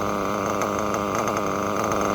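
A Reds R5R nitro engine with a horizontal carb screams steadily at high revs during carburetor tuning, a loud, buzzy, continuous whine with no pauses.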